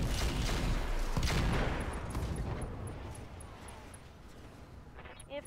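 Mech weapons firing in the Roguetech video game: a dense, loud volley of booming shots and blasts up front, then a long rumbling decay fading out.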